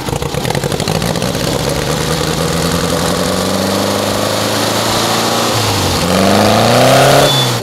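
An old Volkswagen Fusca (Beetle) engine under repair runs loud and close with a rough, uneven idle, then its pitch rises as it is revved near the end.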